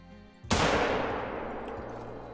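A single sharp rifle shot fired while hunting an animal in the Call of the Wild video game, loud and close, followed by a long rolling echo that fades slowly.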